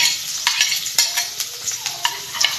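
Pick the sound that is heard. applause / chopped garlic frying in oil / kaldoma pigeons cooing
chopped garlic frying in oil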